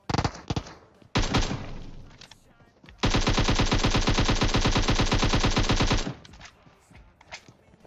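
Bursts of PUBG Mobile gunfire: a few sharp shots, then a sustained three-second automatic volley of rapid rounds, loud and close.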